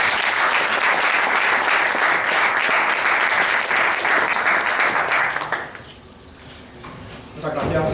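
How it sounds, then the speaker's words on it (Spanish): Audience applause at a Quart de Poblet exhibition talk on Jack the Ripper, loud and dense for about five seconds before fading to a low murmur, then briefly rising again. "Si alguien se merece de verdad un gran aplauso"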